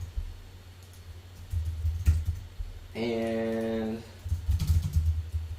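Computer keyboard keys are typed in a few scattered, close clicks, with a brief held tone partway through and a single spoken word.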